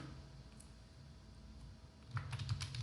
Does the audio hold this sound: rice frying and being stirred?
no